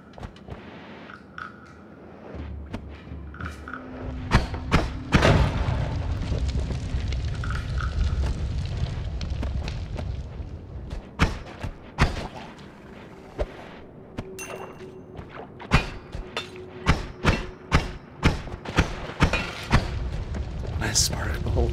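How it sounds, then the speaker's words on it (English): Explosions hitting drunk enemies amid a cloud of alcohol in the video game Noita, heard as a series of sharp crackling bursts and bangs, irregular and increasingly frequent over a low rumbling game background. "Explosion on drunk enemies plus cloud of alcohol."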